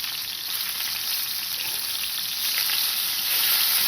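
Tuna steaks fry in a cast iron skillet with a bright, steady sizzle and crackle that swells slightly toward the end, heard close up and alone.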